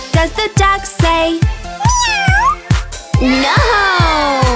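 A voice gives a loud, drawn-out meow imitating a cat in a children's song, with a rhythmic tapping beat and backing music underneath.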